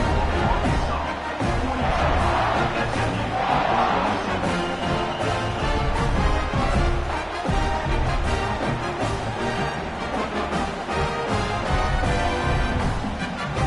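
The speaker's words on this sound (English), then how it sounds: "this crowd is feeling themselves after that last drive" Football stadium crowd after a scoring drive, producing a dense, steady roar of noise and cheering that fills the whole stretch at a constant loud level.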